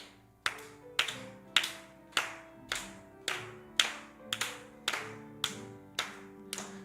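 Church congregation clapping in time while singing a hymn: about a dozen evenly spaced, sharp claps in a steady beat, with sung and accompaniment tones sustained between them, moderately close.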